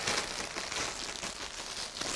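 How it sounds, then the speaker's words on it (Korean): Plastic vinyl gloves crinkle as they are pulled on over lotioned hands, a continuous close, soft crackling rustle with no speech. "비닐 장갑을 끼시고"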